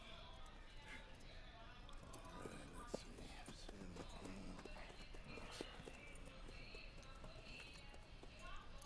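Hooves clip-clop steadily from a newly bought horse in Red Dead Redemption 2, mixed with game ambience and occasional faint neighing, moderately loud throughout.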